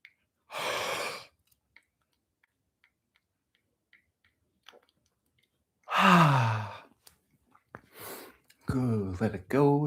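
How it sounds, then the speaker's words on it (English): A big yawn during a guided fascia-focused movement session, heard as a long breathy exhale near the start and again around the six-second mark, with a few quieter breaths and small movement sounds between and faint talk-like breaths at the end. "One more big yawn."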